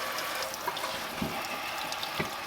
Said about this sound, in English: And rinse the dust out, the dirt, the grime.